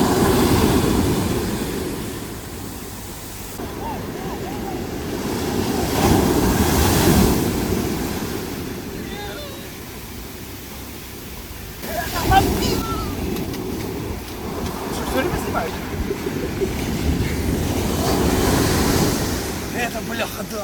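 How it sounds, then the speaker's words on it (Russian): Large ocean waves on the Tenerife shore surge and break in repeated roaring swells, with steady wind noise buffeting the microphone in between. "Волны Вику пугали, но она решила побороться с ними."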